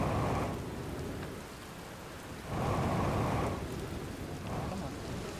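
Rain and rumbling thunder from the video game Outer Wilds VR, a soft steady downpour swelling in two longer surges, faint and without speech.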